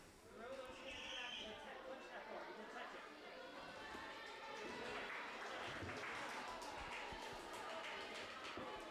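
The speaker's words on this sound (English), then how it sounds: "You can hear the cheering coming from the Warp Wall room for Joey." Indoor crowd cheering from a neighboring Warp Wall room at a kids' ninja athletics qualifier, steady distant roar of voices and applause with chatter throughout.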